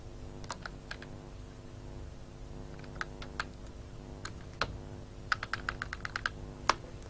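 Computer keyboard keys are pressed in scattered, irregular taps, with a quick cluster near the end. The crisp clicks sit over a steady low room hum, with no voices.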